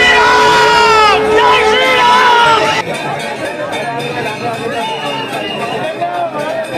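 Dense crowd of pilgrims at the Bade Hanuman temple during Magh Mela in Prayagraj, a loud close churn of overlapping voices and shouts. A sharp drop partway through leaves a thinner murmur with scattered calls.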